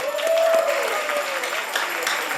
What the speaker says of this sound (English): I want us to give these girls a resounding round of applause